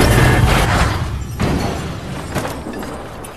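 A bomb explosion in a crowd in the film Babylon A.D. (2008) erupts with a loud boom, followed by a rolling, crackling rumble and a few further bursts that fade away.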